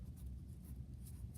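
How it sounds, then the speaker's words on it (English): A pen or marker drawing a cross with a line down the middle on a snow picture, heard as a faint, short, soft scratching close by. "you can just draw a cross with the line going down the middle"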